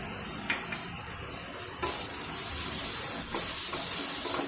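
Curry leaves hit a hot frying pan, a soft sizzle that swells into a louder, steady hiss after a light clink, with faint stirring scrapes, no voices.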